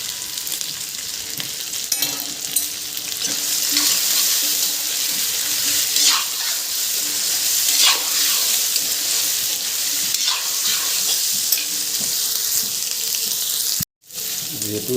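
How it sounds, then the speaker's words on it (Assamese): Pork sizzles and crackles in a pan while being stirred, a continuous close frying hiss with soft scraping, briefly cutting out near the end. "মাংসখিনি ফ্ৰাই কৰি ল'ম।"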